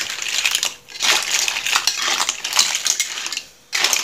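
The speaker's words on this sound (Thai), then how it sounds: "ผัดจนกว่าหอยมันจะอ้านะครับ" Clams being stir-fried in a pan, with clattering shells and rattling, scraping tosses in quick bursts separated by brief pauses, loud and close, no speech.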